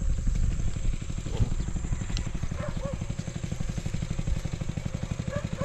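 A water pump's engine idles out in a rice field at dawn, a steady low rhythmic putter and clatter running close by with no break.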